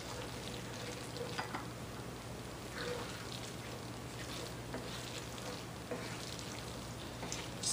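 Ground turkey curry with cream being stirred in a pan, a faint, steady soft sizzle with light scraping and spoon clinks throughout, heard alone without talking.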